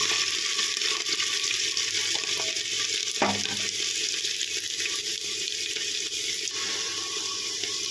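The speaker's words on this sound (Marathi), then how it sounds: "मिरची पण थोडीशी तेलामध्ये तळून घ्यायची" Chopped green chillies frying in hot oil for a vegetable pulao, a steady, loud sizzle throughout with a brief clatter of stirring partway through.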